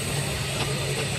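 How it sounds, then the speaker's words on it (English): Aveling and Porter steam roller, built in Rochester, Kent, running at an outdoor steam rally: a steady, continuous low engine rumble with a broad noisy wash on top, close and even throughout the short stretch. "we've got the first of our steam rollers coming along now."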